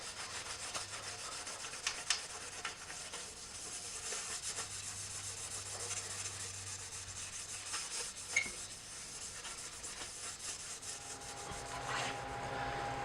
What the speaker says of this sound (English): we're going to start sanding with the red Scotch-Brite pad